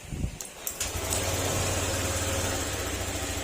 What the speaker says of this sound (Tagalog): Ayan, tahimik na yung makina niya mga sir.